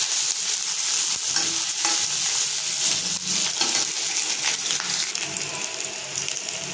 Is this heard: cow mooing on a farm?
no